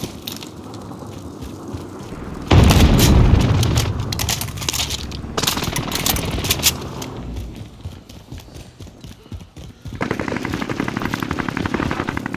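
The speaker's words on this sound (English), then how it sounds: "Precision airstrike" Airstrike explosions in a multiplayer shooter video game: a sudden heavy blast followed by rumbling booms and rapid crackling bursts, loud and close, continuing in waves across the clip.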